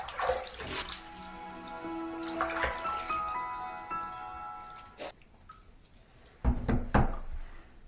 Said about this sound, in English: Let's go ahead and rinse and see where we're at.